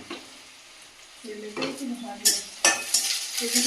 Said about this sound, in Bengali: পেঁয়াজটা লাল লাল করে ভেজে চিংড়ি দিয়ে দিয়ে দেবো